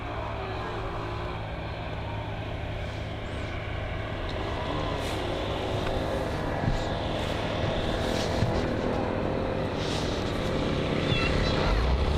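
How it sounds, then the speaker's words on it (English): EasyJet airliner taxiing for departure at Bristol Airport, a steady distant jet engine drone and rumble that holds without a break, with broadband outdoor noise and no clear speech. "The EasyJet aircraft now taxiing also for departure."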